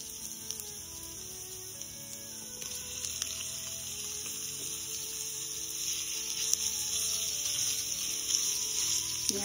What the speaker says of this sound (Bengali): কড়াই গরম হয়ে গেছে, এবার 1 চামচের মতো একটু তেল দিয়ে পেঁয়াজটা দিয়ে দেবো।